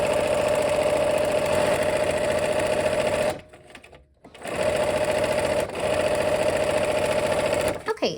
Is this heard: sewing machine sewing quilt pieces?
yes